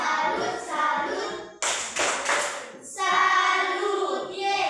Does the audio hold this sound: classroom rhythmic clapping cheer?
yes